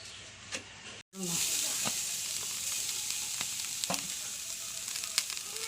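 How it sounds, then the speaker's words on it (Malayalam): A pan heated to fry the tempering for sambar, a loud steady sizzle that starts after a brief silence and keeps a hissing, crackling spread, with scattered pops and clicks near the pan. "മാറ്റി വെച്ച് നമുക്ക് സാമ്പാറിന് വറക്കാം"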